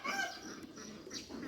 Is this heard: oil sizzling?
no